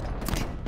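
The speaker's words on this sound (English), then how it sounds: "this is that new scrap cannon thing" Scrap cannon weapon firing in the Halo Infinite multiplayer game, heard as a loud, dense burst of blasts with sharp transients, close and alone.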